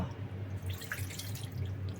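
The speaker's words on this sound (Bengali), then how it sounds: "সামান্য পানি দিয়ে দিব" Water trickles and drips into a pan of pabda fish curry being cooked, making a steady, soft liquid patter over a low background hum.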